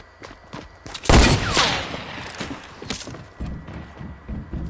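Fortnite gunfire cracks out in a loud burst about a second in, followed by scattered quieter shots and clicks during an in-game battle.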